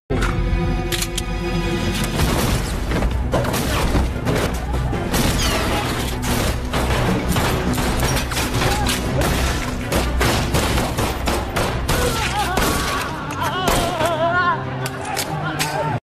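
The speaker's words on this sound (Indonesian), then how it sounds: "Baku tembak pun tidak bisa dihindari lagi di tempat itu." Gunfire during a shootout in an action film, with rapid bursts of shots, crashes and impacts layered over a dense, loud soundtrack that stays busy and continuous throughout.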